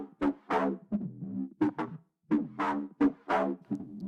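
Filtered drum and bass mid bass made in Ableton, with tape saturation and chorus: a run of short, punchy growling stabs in a choppy rhythm with brief gaps, heard alone and fairly loud.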